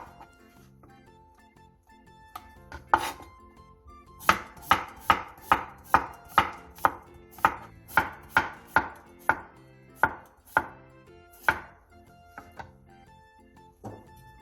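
A knife slices cucumbers about 0.2 cm thick on a cutting board for a cucumber side dish, making a quick even run of about fifteen crisp, close chops after a few scattered taps.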